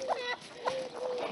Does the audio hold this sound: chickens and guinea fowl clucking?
yes